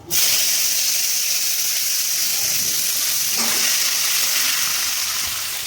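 Chopped coconut fries in hot oil with dried red chilli, a loud, steady sizzling hiss that begins abruptly and continues unbroken, with faint clinks of stirring.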